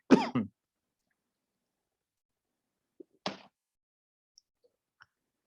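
A single throat clearing followed a few seconds later by a short cough, close and fairly loud, with silence around them.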